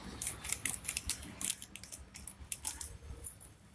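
Scissors snipping through a packaging cover for motorcycle drum brake shoes, a rapid series of crisp close cuts and crinkles, fairly quiet with no talk.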